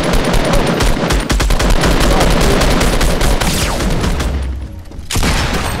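Loud, sustained automatic gunfire from a Fortnite Battle Royale match rattles in rapid bursts almost without pause, easing off briefly near the end before resuming.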